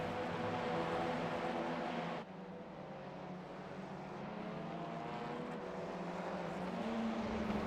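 TCR touring race cars roar down the Silverstone straight in a sim racing game, a steady, loud engine drone with one car slipstreaming another and a brief dip as the note shifts.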